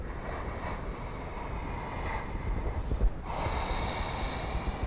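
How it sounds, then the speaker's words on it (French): Ujjayi yoga breathing during a warming flow sequence, a loud, continuous hissing breath close to the microphone that rises and falls gently, with no speech. "Toujours Ujjayi, continue à t'écouter, respirer."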